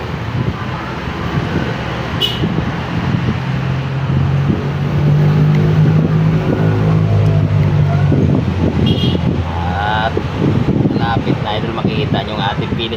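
Vehicles pass on a roadway in the afternoon, a broad whooshing traffic rumble that swells in the middle with wind buffeting the microphone, while someone talks over it.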